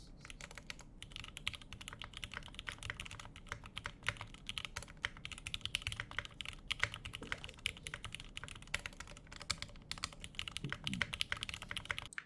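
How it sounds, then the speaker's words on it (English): Steady, continuous typing on a computer keyboard, a dense run of close clicks and key taps lasting throughout with no talking. "This is my first ever properly recorded typing test."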